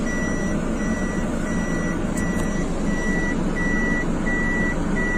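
Steady, evenly spaced reversing beeps from a truck backing up outdoors, repeating about once a second over a continuous engine rumble and background street noise, with no talking.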